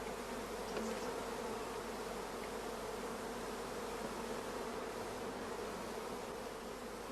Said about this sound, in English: in the queenless starter colony, we can hear the loud buzzing of the orphan bees